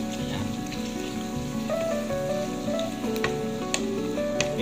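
Tomatoes and hotdog sizzle steadily in a hot pan, a dense, even crackle close by and continuous throughout, with a few sharper pops near the end and no talking.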